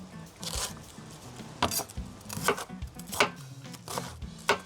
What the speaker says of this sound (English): now I'm just starting to chop up the veggies that are gonna go into our cast iron